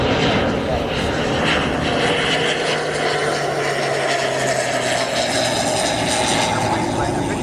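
A light aircraft bouncing as it touches down on runway 36 at Oshkosh, a loud steady propeller engine drone close by, with people talking over it.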